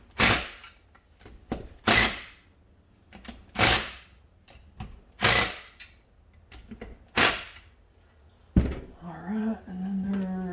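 Metal tools work the nuts on a Honda Odyssey FL250 engine under restoration, giving six or seven sharp, loud clanks at a steady two-second rhythm. A voice follows near the end.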